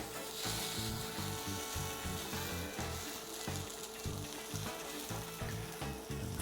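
A black bean burger patty frying on a warm flat-top skillet makes a continuous close sizzle, layered with irregular low clunks and scraping, and nobody speaks.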